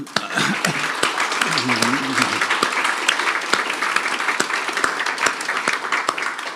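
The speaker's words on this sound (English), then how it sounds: "one more big round of applause for this wonderful presentation overseen by Peter" An audience at an AI talk breaks into strong, steady applause for the presenters, with a few sharper individual claps standing out and a voice briefly heard near the start.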